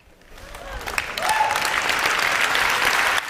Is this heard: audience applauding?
yes